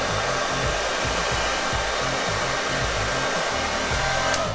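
A hair dryer blows steadily on a handlebar mustache, a loud, unbroken whoosh with a low motor hum that stays constant throughout, with no one talking.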